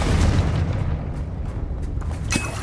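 A Confringo blasting spell goes off in Hogwarts Legacy, a heavy close boom with a rumbling low tail and a sharp crack near the end, loud and without talk.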